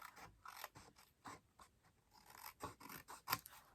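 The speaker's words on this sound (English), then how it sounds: "So let's take your scissors and trim that off." Scissors trim the edge of card stock for a handmade card, a series of quiet crisp snips and rasps in an irregular rhythm, close up and alone.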